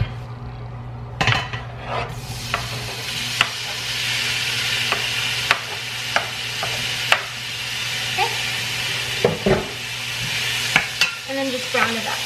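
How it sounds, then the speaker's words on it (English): Pork browns in oil in a large pot over medium heat, a steady loud sizzle with repeated scraping and stirring clacks from a utensil against the pot throughout. "I'm gonna go ahead and brown up the pork first"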